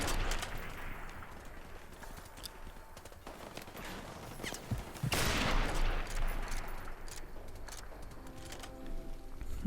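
Rapid bursts of gunfire in Call of Duty: Modern Warfare Remastered crackle in irregular volleys, with sharp sniper shots and a louder blast midway, no talking.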